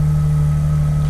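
Porsche 992 engine idling during a cold start, a steady, loud low rumble that holds even and unbroken throughout.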